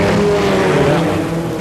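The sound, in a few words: Sports 2000 race cars passing, including a Lola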